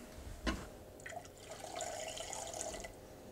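Warm water pours steadily into a mixing bowl holding olive oil, egg and yeast for an Italian rustic loaf, opening with a sharp clink before a soft, continuous trickle.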